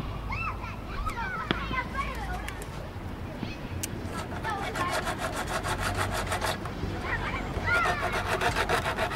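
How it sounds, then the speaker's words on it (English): A dragon skin abrasive scrapes excess resin off a surfboard repair in steady, gritty back-and-forth rubbing strokes, close and continuous, with faint chirps in the background. "we're going to start with a dragon skin to take off any of the excess resin"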